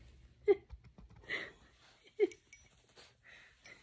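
A 17-year-old dog snores nearby, with two loud snorting rasps spaced about two seconds apart and softer wheezy breathing in between, fairly quiet overall.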